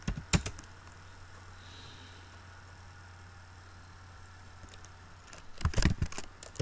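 Short bursts of computer keyboard typing while programming an ESP32 in MicroPython, a quick flurry of keystrokes near the start and another near the end, separated by a stretch of low steady hum.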